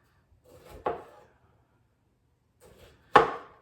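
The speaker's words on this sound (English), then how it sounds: "So I'm using manual food processor for this." Two sharp chopping thuds from a hand-operated food chopper, spaced a couple of seconds apart, each with a brief rattling tail, close by and otherwise quiet.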